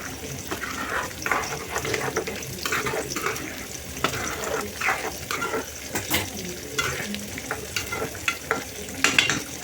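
Cooked lentils being mashed for sambar, a wet, squelching stir with repeated soft knocks and scrapes against the pot, fairly close and steady throughout with no voices.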